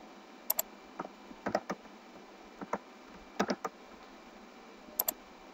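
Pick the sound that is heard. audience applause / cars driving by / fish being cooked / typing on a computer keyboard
typing on a computer keyboard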